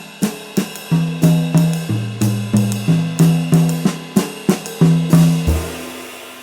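Drum kit playing quarter-note triplets in a jazz stick control exercise, a steady run of evenly spaced sharp drum hits alternating between two tom-like pitches over cymbal wash, ending on a lower drum, close and loud with no talk.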